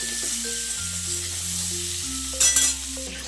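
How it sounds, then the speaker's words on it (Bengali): Cauliflower frying in a pan with salt and turmeric, a steady close sizzle with stirring and a brief louder clatter near the end, under a low droning background tone. "ভাজার সময় ফুলকপিতে একটু লবণ আর হলুদ দিয়ে মা ভেজে নিচ্ছে।"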